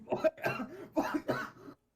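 A series of close, rough coughs in quick succession, about four bursts, then silence.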